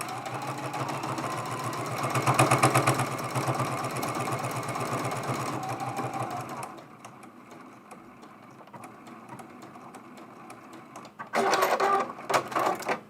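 A domestic sewing machine stitching a quilted autumn mug rug, a steady rapid whir for several seconds, a stretch of quiet handling, then a short final burst of stitching.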